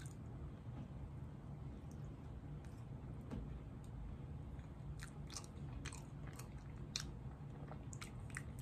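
Someone bites into and chews a vanilla Hostess cupcake, soft close-up mouth sounds with small crunchy clicks, louder toward the end, over a low steady background rumble.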